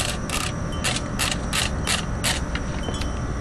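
A high-capacity gun magazine is wound by hand, giving a rapid run of close, loud ratcheting clicks in an even rhythm, about three per second, with no talk.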